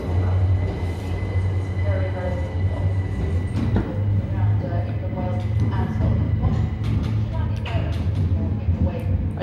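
A train pulls out of Epsom station with a low, steady rumble and hum of traction, close and continuous, with a platform announcement voice sounding over it.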